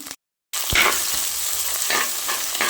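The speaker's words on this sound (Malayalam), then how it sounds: "ഓക്കെ ഇനി ഇത് നന്നായിട്ടൊന്ന് ഇളക്കണം" Small onions, chili and ginger being stirred in a pan for fish curry, a short gap of silence then a steady close sizzle with a knock of the spoon and soft scraping strokes, no voices.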